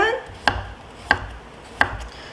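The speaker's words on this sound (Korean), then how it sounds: "좀 작게 채를 써는 방식도 있어요. 자, 그래서 양파, 당근," A kitchen knife julienning onion and carrot into thin strips for a seafood salad, sounding as three crisp, evenly spaced chops on a cutting board with quiet pauses between them.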